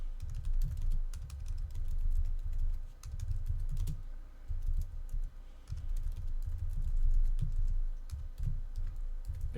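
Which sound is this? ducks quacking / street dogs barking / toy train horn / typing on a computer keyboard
typing on a computer keyboard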